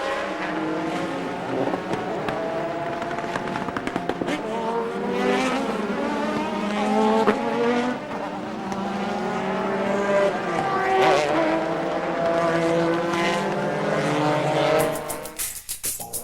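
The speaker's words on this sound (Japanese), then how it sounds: "エキゾーストの音が高まり各社一斉にスタート" Racing cars from the 2000 JGTC season, including GT-R and NSX entries, roar together at a race start, many engines screaming and rising in pitch in a loud sustained wall of exhaust noise.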